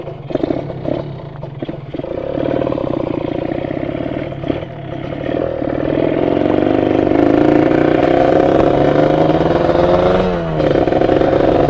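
Motorcycle engine running on a road test ride with racing two-stroke side oil, a steady close drone that climbs in pitch as it accelerates, with a brief dip and rise near the end.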